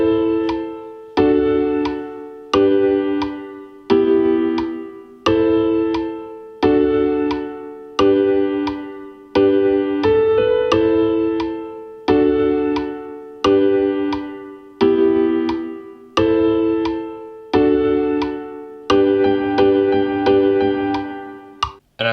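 A song's chord progression built in GarageBand, repeating evenly spaced synth chord stabs in a steady rhythm for about twenty seconds, each decaying before the next, with no speech.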